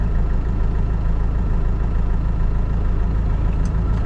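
A Kubota HST tractor engine idles with a steady, even low rumble throughout, close and continuous with no voices.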